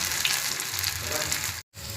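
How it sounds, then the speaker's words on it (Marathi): Coriander vadi slices fry on a hot tawa over a low flame, giving a steady close crackling sizzle with faint ticking bits, cut by a brief moment of silence near the end before the frying resumes. "आता फ्राय करायचे आपण तवा ठेवलेला आहे त्याच्यावर फ्राय करायचे"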